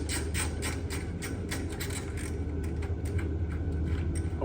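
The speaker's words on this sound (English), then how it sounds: "I've just got a little 1/4 inch drive ratcheting screwdriver here, and there's just a handful of screws right around the perimeter" A quarter-inch drive ratcheting screwdriver removing the perimeter screws of a grille insert on a 1973-77 Ford F-Series truck: a rapid, steady run of close, crisp ratchet clicks over a low background rumble.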